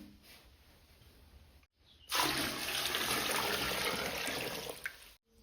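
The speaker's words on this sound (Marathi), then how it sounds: "आता आपल्याला भरपूर पाणी ओतून घ्यायचं" Plenty of water is poured from above onto wheat grains in a container, a loud, steady rushing stream lasting about three seconds after a brief quiet start.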